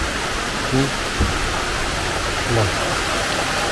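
Steady rain falling all around, a dense, even wash of noise close by with a few faint voice fragments briefly heard beneath it.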